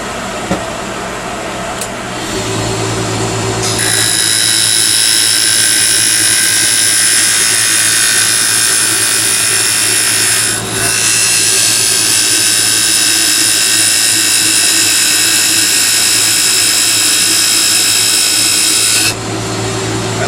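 A wood lathe spins a chess king piece while a spindle gouge cuts it. A loud, steady high whine and hiss run for about fifteen seconds after a quieter motor hum, then cut off near the end.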